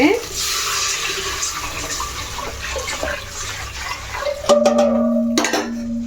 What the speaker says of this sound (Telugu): ఇందులో వాటర్ వేసేసుకుంటున్నాను